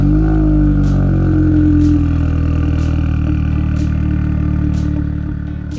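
A Cyan Racing Volvo P1800, a bespoke classic sports car, runs close and loud with a deep, steady idle and faint regular ticks over its low rumble, easing slightly toward the end.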